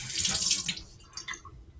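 A tablespoon of water is poured into a bowl of Earth Day cookie dough in a kids' kitchen, giving a short, close splash and trickle that fades after about a second, with faint clinks following.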